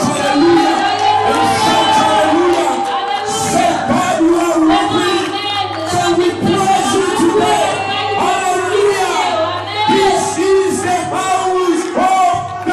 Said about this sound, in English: I want you to clap your hands and shout hallelujah